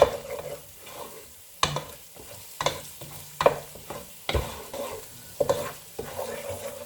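Prawn biryani masala with fennel seed powder is stirred in a hot pan: a series of sharp spatula scrapes and knocks at an uneven pace over a low, continuous sizzle.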